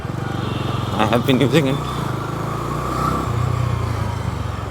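A Bajaj Dominar 250 motorcycle engine running and being revved on the road, a steady close drone with a brief rise in revs early on, heard under someone speaking.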